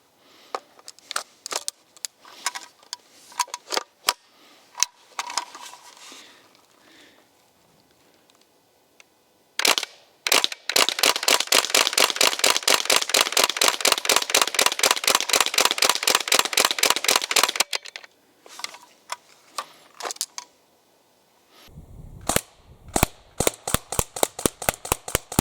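An Umarex Legends M1A1 air gun styled after the Tommy Gun fires at close range, first in scattered single shots, then in a long rapid full-auto burst of sharp clacks, followed by more short bursts.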